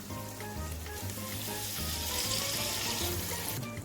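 Fish masala frying in a pan over a low flame while being stirred gently, giving a steady close sizzle with faint scraping and clinks throughout.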